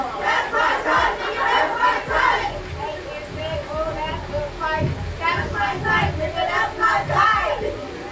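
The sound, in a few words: crowd cheering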